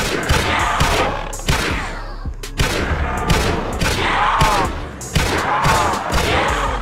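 A G3A3 battle rifle fires repeatedly in the zombie game Project Lazarus, with loud, close, sharp shots in quick bursts separated by short pauses.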